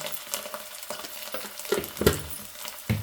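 Ginger garlic paste, about a spoonful, hitting browned onions in a hot pan while making a ladyfinger (okra) fry: steady close sizzling with a few louder stirring scrapes and clinks near the end.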